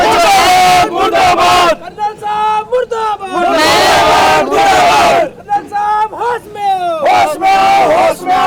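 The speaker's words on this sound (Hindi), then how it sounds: "कर्नल साहब मुर्दाबाद के नारे उन्हीं की जनता लगा रही है" A large crowd chanting protest slogans against Colonel Rathore on a city road, loud and close in repeated rhythmic shouted bursts with brief pauses between lines.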